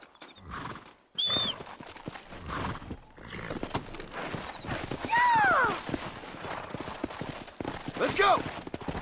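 Horse hooves clip-clop in the Red Dead Redemption video game, with loud whinnies and neighs breaking through and people talking over the steady hoofbeats.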